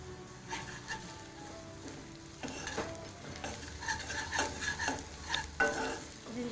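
Onions and ginger garlic paste stir-fried in a pan, with a steady close sizzle and repeated scraping strokes of a spoon that grow louder and more frequent toward the end; no voices.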